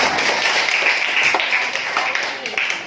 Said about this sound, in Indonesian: Kasih tepuk tangan dulu untuk Maha